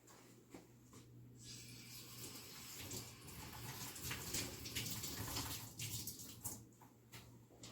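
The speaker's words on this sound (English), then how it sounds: "I'm going to give it a quick rinse." Cilantro tops rinsed under running tap water in a kitchen, a steady broadband splashing stream lasting throughout, moderately loud and close with a low electrical hum beneath, no talk.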